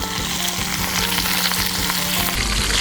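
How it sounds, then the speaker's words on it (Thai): Mackerel frying in oil over medium-high heat gives a loud, steady sizzle with crackling bursts throughout, close and with no voices over it. "เราจะมาเริ่มต้นจากการทอดปลาทูกันเลยค่ะ"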